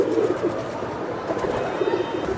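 Giribaz pigeons cooing in a market setting, a soft continuous murmur of low coos close by without talk.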